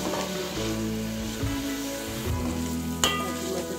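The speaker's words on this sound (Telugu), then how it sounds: "ఇప్పుడు వీటిని మీడియం ఫ్లేమ్లో పెట్టుకుని రాలుగా వేయించుకోవాలి" Bitter gourd slices fry in oil over a medium flame with a steady, close sizzle that holds evenly throughout, broken by one brief sharper crackle near the end.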